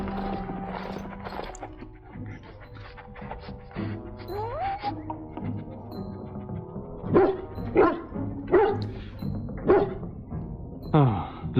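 A dog in the fantasy video game Dragon Age: Origins barks several times, sharp repeated woofs that grow more frequent toward the end, over game music, with voices talking earlier.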